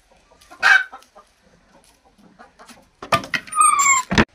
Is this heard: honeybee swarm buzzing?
no